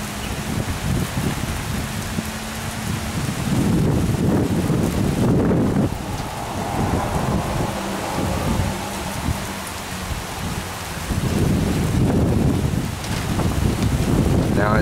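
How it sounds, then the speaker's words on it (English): Steady heavy rain with gusting wind buffeting the microphone during a tornado passing near a house, a continuous roaring wash of noise that swells and eases without pause. "It's just raining and the wind's blowing."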